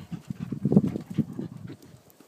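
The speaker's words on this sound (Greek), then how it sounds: "Τόσο μεγάλο σκυλί." A big dog pants rapidly in a quick, uneven rhythm, with shuffling and movement sounds close by and no speech.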